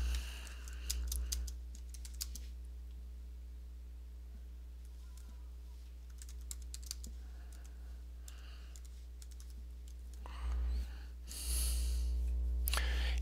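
Typing on a computer keyboard, light rapid clicks in short bursts over a low steady hum, with a few pauses and nobody speaking.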